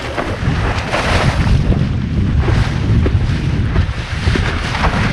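Steady, loud wind buffeting on open water while sailing a foil boat, a continuous low rumble with gusty swells and no pauses throughout.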